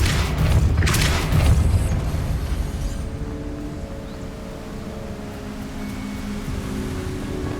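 A Depulso spell fires in Hogwarts Legacy, with a loud deep boom and a rushing, surf-like whoosh that decays into a low rumble.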